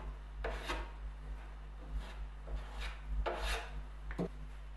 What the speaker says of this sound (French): Un petit coup de ponçage.